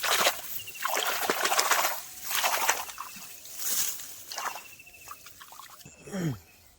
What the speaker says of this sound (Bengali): হাতটা ধুয়ে নিচ্ছি